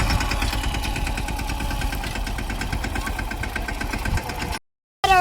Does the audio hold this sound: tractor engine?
yes